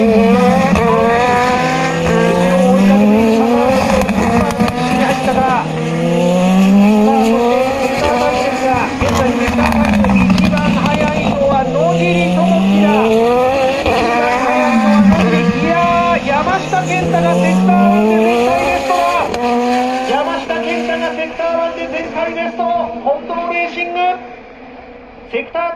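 Super Formula race cars lap a circuit during 2024 Round 4 qualifying, engines repeatedly climbing and dropping in pitch through gear changes and cornering, loud and continuous beneath a race commentator's fast talk.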